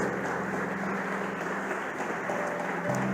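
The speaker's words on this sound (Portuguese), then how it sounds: "dá um aplauso bem forte para Jesus aí" A church congregation applauds during a sermon, a steady dense wash of clapping that stays loud and even throughout, with a faint tonal hum underneath.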